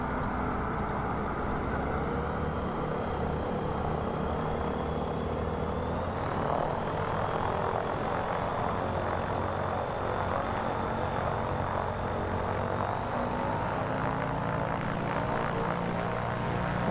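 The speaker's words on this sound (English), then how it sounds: "Spooling up that beautiful Rotax engine, and he is up as well." A Rotax aircraft engine in Microsoft Flight Simulator drones steadily at full power for a takeoff in an eSTOL competition, a continuous loud propeller and engine roar with no talk.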